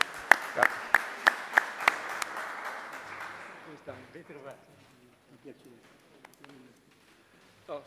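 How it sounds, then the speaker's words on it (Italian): At the Tridente d'Oro ceremony, a handful of sharp, close claps ring out for about two seconds, then fade as people begin talking. "un applauso a Fabio Scoccimarro"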